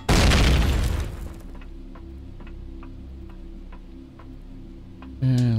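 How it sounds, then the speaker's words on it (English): A loud explosion bursts through the floor in the sci-fi game Empyrion Project Eden, a heavy broadband boom that decays into a low rumbling hum with faint ticking, then a second loud burst near the end. "Time for an explosion in the floor."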